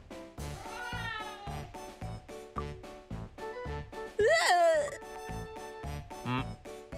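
A cat meows in the video game Obey Me! Nightbringer, one clear rising and falling meow partway through, heard over steady game background music.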